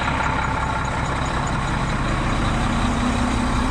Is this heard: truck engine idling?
yes